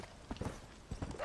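Donkey hooves clip-clop on the ground in the video game Red Dead Redemption, several close, uneven steps in quick succession, heard alone.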